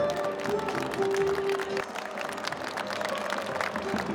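Applause from a stadium crowd at the opening ceremony of a football stadium, a steady wash of clapping that carries on throughout at moderate distance, with a faint tone and some voices mixed in.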